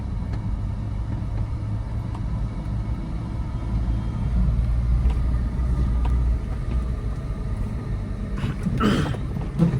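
A car with a manual gearbox being taught on narrow streets rumbles steadily with low engine drone after crossing a large speed breaker, swelling slightly as it gains speed, with a brief brighter burst near the end and no talk.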